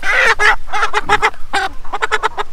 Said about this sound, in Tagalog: Namiss mo ba, Paolo, ang mga manok ko?